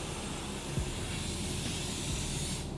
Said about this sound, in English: I'm just spraying it on the curls.